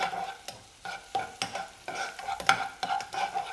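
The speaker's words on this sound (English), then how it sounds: "So we just saute this just to tender the onion that we have" Onion sautés in a pan, a soft sizzle broken by rhythmic stirring scrapes about every half second, close and steady with no talk.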